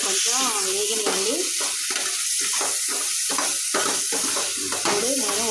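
Chopped vegetables for upma fry and get stirred in a hot pan, giving a continuous loud sizzle broken by rhythmic scraping strokes of the spoon.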